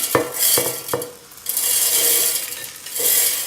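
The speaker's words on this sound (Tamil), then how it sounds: "ஒவ்வொரு இன்க்ரீடியன்ஸாக நான் ஜாரில் போடுறேன்" Herbal bath powder ingredients dropped one at a time into a clean mixer jar, with a few sharp clattering thuds early on and then a rustling, pouring rush, loud and close, with no talking.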